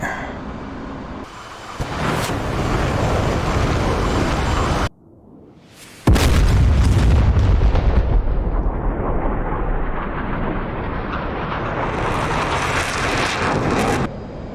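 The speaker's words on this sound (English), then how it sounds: "there's definitely some artillery there." Artillery fire and explosions roll through a DCS World combat flight game during an F/A-18 air strike: heavy rumbling booms, a sudden brief silence, then a big close blast that fades into a long roaring rumble.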